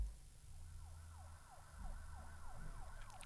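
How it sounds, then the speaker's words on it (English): Looped police and ambulance sirens wail, sweeping up and down repeatedly over a low engine rumble, steady and moderately loud with no voices. "We then again used the loops from Logic for the police sirens and the ambulance."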